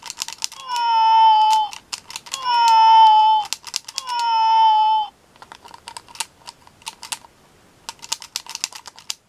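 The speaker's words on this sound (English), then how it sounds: "See if I can get that purring noise again." 2001 McDonald's Robo-Chi robot cat toy making three long electronic purring tones, each about a second and a half with a gap between, followed by clicks and clatter of the plastic toy being handled.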